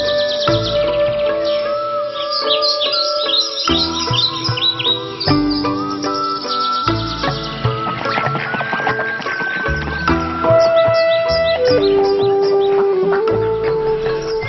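Many birds call and chirp in a Danube wetland at Begecka Yama, overlapping calls and trills close by, some long whistled notes and busy twittering throughout with no talking.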